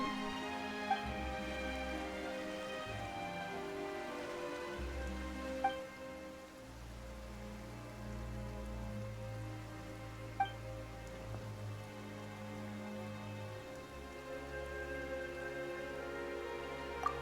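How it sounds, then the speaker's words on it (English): Rain falls steadily in Genshin Impact's Fontaine region, a soft continuous patter that sits under a layered orchestral music score for the whole stretch, with a few faint chime-like accents. "Why is it raining all of a sudden?"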